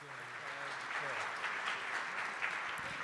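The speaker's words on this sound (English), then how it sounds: "Can we all give them a round of applause?" Warm, steady applause from an audience at a conference, fairly quiet and distant, with a voice briefly heard under the clapping.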